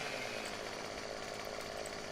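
A chainsaw in the Farming Simulator 2015 video game runs at a steady, continuous buzzing drone with no breaks, loud and close, with no talk.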